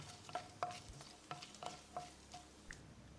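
Quiet, soft sizzling of cumin and spices frying in a pan for mushroom biryani, with light scraping strokes of a spoon stirring at an irregular rhythm.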